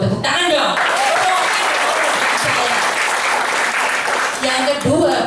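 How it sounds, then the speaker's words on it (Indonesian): Steady applause from an audience at a hospital company's 2016 kick-off event, loud and sustained for several seconds, with a voice speaking over it near the start and again at the end. "Oh, tepuk tangan dong."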